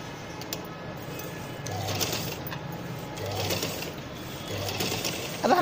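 A sewing machine stitches a frock in short bursts of rapid mechanical whirring, three or four runs with pauses of handling noise between them.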